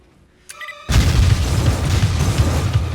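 A sudden explosion boom hits after a brief high chime, a single loud blast that rolls into a long, dense rumbling tail lasting several seconds.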